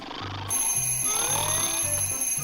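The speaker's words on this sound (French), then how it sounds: "Réveillons-la avec une alarme." An alarm clock rings to wake a sleeping girl, its bell sounding in short repeated bursts against a steady hiss, fairly loud and with no talking.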